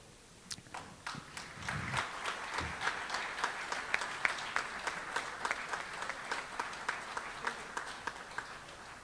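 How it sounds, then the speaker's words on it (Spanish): Applause at a Spanish-language ethics conference on the Gender Identity Law, starting sparse with a few claps and swelling into steady, moderately distant clapping from an audience that continues for several seconds. "Por favor, un fuerte aplauso"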